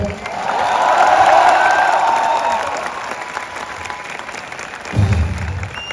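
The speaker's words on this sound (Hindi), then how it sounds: "ताली तो बजा दो" A comedy show audience swells into loud applause and cheering that peaks, then thins out, followed by a short burst of crowd noise near the end.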